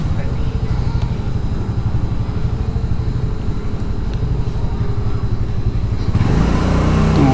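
A two-wheeler's engine runs steadily up close as it is brought to a stop in a crowded cinema parking area, a constant mid-pitched drone that shifts character near the end, with voices talking over it.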